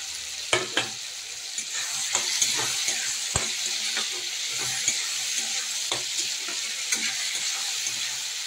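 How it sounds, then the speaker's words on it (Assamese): Chopped tomatoes hit a pan of frying fish curry with ridge gourd and potatoes, giving a loud steady sizzle broken by sharp ladle knocks and stirring scrapes, close up with no talk. "এতিয়া ইয়াত বিলাহী কাটি থৈছিলোঁ, সেইখিনি ইয়াতে দি দিম।"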